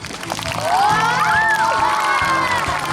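Children cheer and shout together at an Incheon elementary and middle school club football tournament, a loud sustained crowd of young voices rising in pitch, with applause blended underneath.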